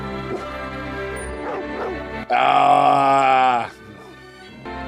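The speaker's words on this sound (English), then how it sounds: "What's he barking at now?" A dog gives a drawn-out howling bark, loud and close, amid dog whimpers and a person's voice.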